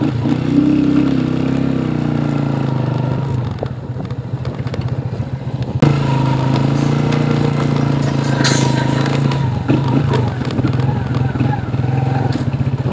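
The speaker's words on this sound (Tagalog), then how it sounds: "O may sira yata yung bearing ng motor ko." A motorcycle with a suspected faulty bearing rides along a farm-to-market road, its engine droning and rumbling steadily with some rattling and clatter. The loud engine noise continues throughout the clip.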